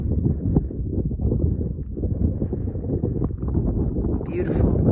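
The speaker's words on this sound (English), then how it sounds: "windy." Wind blowing on the open desert stretch of the ET Highway in Nevada, near Area 51, a steady low roaring rush buffeting the microphone throughout, with a brief higher whine near the end.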